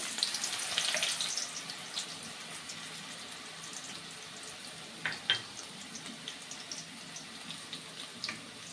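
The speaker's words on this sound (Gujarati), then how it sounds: "આપણે ગ્રેવીનો વઘાર કરી લઈશું" Dried red chillies and green garlic crackle and sizzle faintly in hot oil, a soft steady hiss with scattered pops and a few louder clatters midway.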